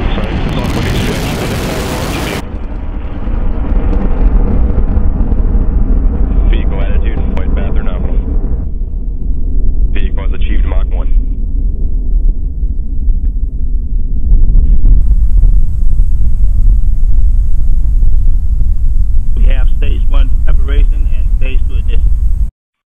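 Rocket engine ignition at an orbital satellite launch, a loud sustained roaring rumble that swells and holds steady, with launch-control voices talking over it throughout.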